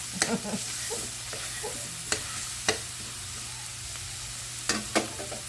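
Garlic fries for pork binagoongan, a steady soft sizzle in the pan broken by a few sharp scrapes and clinks of a stirring utensil, close and fairly quiet.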